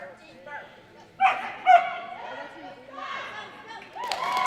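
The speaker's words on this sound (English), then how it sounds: "Good dog, Bird." A dog at AKC team tryouts barks and yips in short excited bursts with some whimpering, close by, while people talk over it and crowd noise murmurs in the background.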